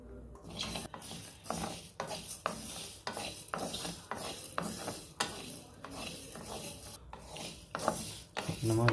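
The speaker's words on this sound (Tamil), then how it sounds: "இப்போ நம்ம எடுத்து வச்சுருக்க எல்லா இன்க்ரீடியன்ஸும் இதில் போட்டு அடுப்பை சிம்மில் வச்சு ஸ்லோவாக பொன்னிறமாக வர வரைக்கும் வறுத்தெடுத்துக்கலாம்" Whole chillies and spices are dry roasted in a pan on a low flame for tamarind rice, with repeated scraping and rattling strokes of a spatula at a moderate level.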